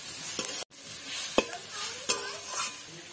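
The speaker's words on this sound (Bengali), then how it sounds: "এবার বাঁধাকপিটা দিয়ে দেবো আমি, এটা ওর সাথে নাড়াচাড়া করে একটু মিশিয়ে নিতে হবে।" Boiled, squeezed-out cabbage is stirred and fried in a pan for momo filling: a soft, fairly quiet sizzle broken by a few sharp scrapes and taps of the spoon, with no talking.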